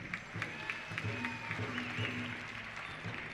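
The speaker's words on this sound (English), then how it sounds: "A round of applause" Applause from the audience at a Thanksgiving pow wow flag introduction, steady clapping from a crowd heard at a moderate distance throughout.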